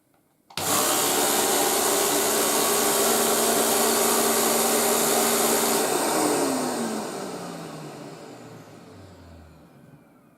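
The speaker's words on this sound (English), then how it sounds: "let's see the brush roll going round" A 1998 Numatic Henry HVR200 vacuum with a turbo electric nozzle spins its brush roll at full power in a loud, steady whining roar, then the motor winds down with a falling pitch over several seconds.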